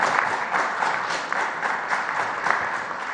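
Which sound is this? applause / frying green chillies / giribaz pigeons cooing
applause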